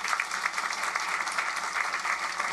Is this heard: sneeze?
no